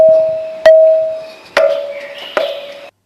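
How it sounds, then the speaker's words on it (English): A stone musical pillar in a temple struck three times, each hit giving a clear bell-like ring that decays slowly, close and loud, with no talking. "here's the sound of a temple bell"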